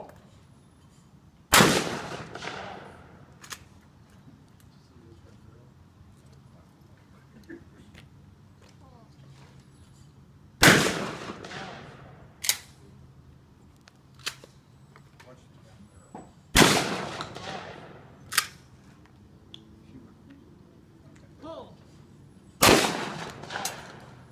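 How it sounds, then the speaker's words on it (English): Four loud, sharp gunshots at an outdoor shooting range, spaced several seconds apart with ringing echoes, plus a few fainter clicks and knocks and people talking between shots. "This is the first time ever shooting a gun."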